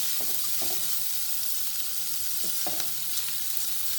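Garlic sautéing in a pan for tomato soup gives a steady close sizzle, with a few soft scrapes from stirring, and no voices.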